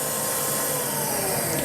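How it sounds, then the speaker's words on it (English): A vacuum motor powering a servo-played melodica runs with a steady, loud, whining roar that holds constant throughout, with no voices. "Vacuum motor on."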